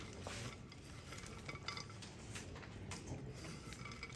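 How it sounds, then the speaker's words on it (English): A mixture being stirred in a bowl in a kitchen while making peanut butter pie and peanut brittle, with steady scraping and clinking of a utensil against the bowl, close and continuous. "You mix this up really well."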